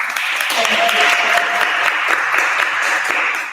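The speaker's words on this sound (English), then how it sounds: "Can we give her a round of applause?" An audience at an evening event on luxury brand PR and marketing gives a round of applause for host Damali Hill, loud, close clapping with a few voices mixed in, fading at the end.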